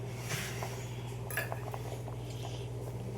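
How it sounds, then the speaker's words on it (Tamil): A spoon stirs fish curry in a pot outdoors in soft, irregular clinks and scrapes over a steady low background hum, with no talking. "லைட்டாக இதை கொஞ்சம் கிளறி விட்டுக்கிட வேண்டியதான்"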